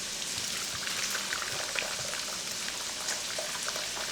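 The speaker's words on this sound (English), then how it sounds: "our shrimp stock is done, and now I'm just going to carefully strain it" Shrimp stock being poured through a strainer, a steady close splashing and trickling stream of liquid, continuous and even throughout, with no talk.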